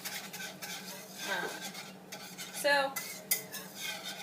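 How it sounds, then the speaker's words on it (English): A spoon stirs mac and cheese sauce in a pot, giving soft scraping and occasional clinks against the metal at close range. The sound is fairly quiet, with a brief spoken word near the start. "mixing that up a little bit. It says to let it stir constantly."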